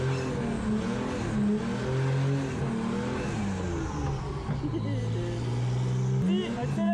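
A BMW E82 revs and accelerates hard while drifting, its engine note droning and rising steadily and loud throughout, with a voice talking over it.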